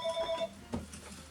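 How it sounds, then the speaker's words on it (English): A telephone rings faintly in an indoor room, a short warbling electronic tone repeating a few times at low level before it fades, with a quiet background. "No, the phone's ringing."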